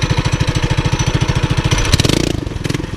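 A Chinese ATV fitted with a Predator 212 engine revs hard, its loud close engine note pulsing in a rapid rhythm as it accelerates, rising in pitch near the end.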